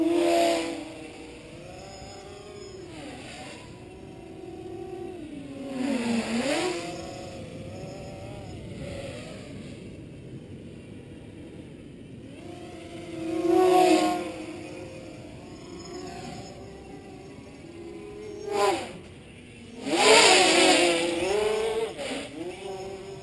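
The electric motors of a Simple T multicopter whine steadily as it flies down a street, with the pitch repeatedly sweeping up and down as it speeds up, maneuvers and passes by at varying distance.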